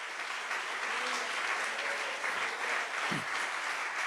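A church congregation claps steadily throughout a Spanish-language sermon service, a dense, sustained round of applause filling the room with a brief low thump near the end.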